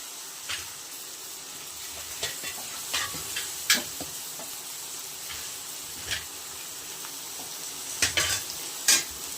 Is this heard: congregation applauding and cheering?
no